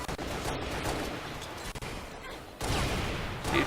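A grenade blast amid rattling gunfire in a Halo Reach multiplayer match, dense and continuous battle noise with a sharper burst near the end, under a commentator's excited talk.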